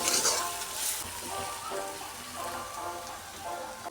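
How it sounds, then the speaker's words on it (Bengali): Ginger, garlic and cumin pastes with turmeric, chilli powder and salt sautéing in a pan, giving a steady close sizzle with soft scraping stirs, no voices. "এগুলো ভালো করে কষিয়ে নেব।"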